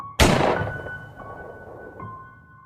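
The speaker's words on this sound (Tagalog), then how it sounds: "Maya-maya, may isang malakas na putok ng baril." A single loud gunshot cracks out sharply and alone, its echoing tail fading over a steady faint tonal drone in a tense night scene.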